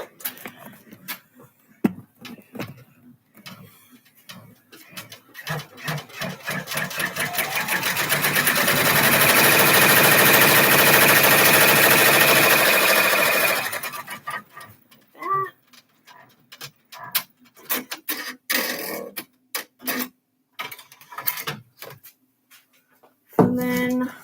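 An embroidery machine stitching rises into a loud, steady, rapid whirring hum for several seconds in the middle, framed by scattered clicks, taps and quieter handling noises before and after.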